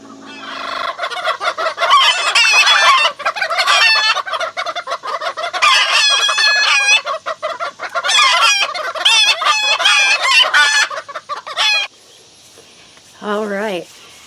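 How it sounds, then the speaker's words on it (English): Loud, close chickens squawk and cluck in agitated overlapping bursts that break off briefly, followed by one last short call. "we're going to have to let these chickens calm down a bit"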